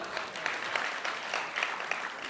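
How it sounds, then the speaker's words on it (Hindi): Clapping from a crowd at a poetry gathering during a Dussehra fair in Kapasan, a fairly soft, even patter of many hands with slight swells, heard without speech. "जो ताली बजा करके बताओ"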